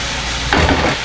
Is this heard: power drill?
no